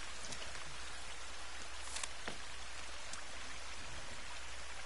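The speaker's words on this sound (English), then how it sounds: "Oh, it's because of the rain." Rain falls steadily in the survival game The Forest, a constant hiss of drops with a few brief louder splashes, with no talking.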